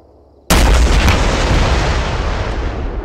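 A tank cannon in the military game Arma 3 fires one sudden, loud, heavy boom that rolls on as a long rumbling decay.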